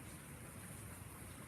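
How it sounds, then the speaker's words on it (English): Light rain patters steadily onto an outdoor deck in Austin, Texas, a soft continuous hiss of drops with no voices. "It's raining. It's a nice little rain."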